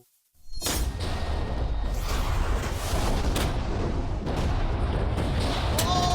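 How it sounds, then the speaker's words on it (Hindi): A huge TNT blast erupts with a sudden loud boom, followed by a sustained roaring rumble and crackling debris that continues for several seconds. "ये एक बहुत ही बड़ा धमाका होने वाला है।"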